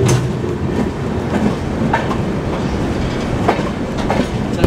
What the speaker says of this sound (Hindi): आगरा कैंट से हमारी ट्रेन निकली थी